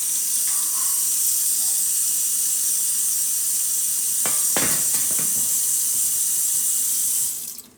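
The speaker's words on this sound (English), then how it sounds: "Rinsing this pan off." A pan rinsed under a running kitchen tap: a steady, close hiss of flowing water with a few clanks and splashes partway through, then the water cuts off at the end, no talking.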